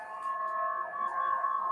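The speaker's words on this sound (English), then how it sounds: "Excuse the sirens, excuse the sirens." A steady wailing siren tone holds and wavers continuously, moderately distant, with no speech.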